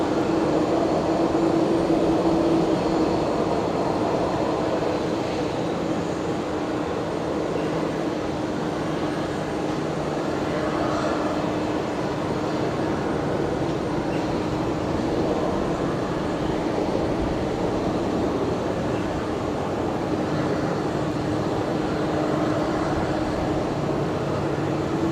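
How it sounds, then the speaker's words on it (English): A Jetstar airliner arriving from Canberra lands on Brisbane Airport's Legacy runway under stormy conditions, giving a broad, steady engine roar that holds at moderate loudness throughout with no voices. "Next arrival is going to be Jetstar 657 coming in from Canberra here on the Legacy runway"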